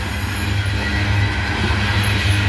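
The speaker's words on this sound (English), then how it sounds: "fully loaded coal train" A fully loaded coal train from Pennsylvania rumbles past close by at a steady, heavy level, with continuous low wheel-and-car noise and no pauses.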